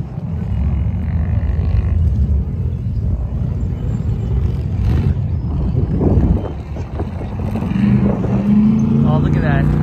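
Off-road race vehicles at King of the Hammers 2022 rumble past as a steady, loud engine drone that swells and dips, with people talking excitedly over it.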